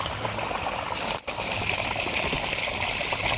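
Rainwater gushes steadily from a pipe into a plastic-lined storage pond, a constant close splashing rush that cuts out briefly for a moment.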